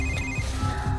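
A telephone rings inside a village house at night, a short steady electronic trill at moderate level with no talking over it.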